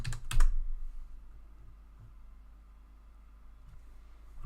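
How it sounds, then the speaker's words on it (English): Typing on a computer keyboard while entering a passphrase in Defi Kingdoms, with a loud burst of key clicks at the start and then sparse, faint keystrokes over quiet background hiss; no speech. "I can't talk and type at the same time."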